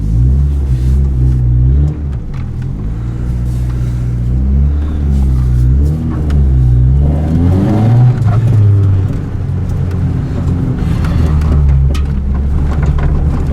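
A cheap tow-yard Honda car with a very stiff clutch pulls away and revs. A loud, close engine drones and rises in pitch in surges, with rumbling low tones and no talk.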